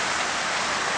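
Heavy rain pours outside in Sydney, a dense steady roar of falling water that fills the whole second without a break.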